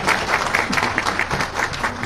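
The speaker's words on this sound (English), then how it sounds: "A round of applause for Honorable Minister." A large audience at a University of Lagos event applauds the honorable minister, producing dense, continuous clapping that fills the room at an even level with a faint crowd murmur beneath.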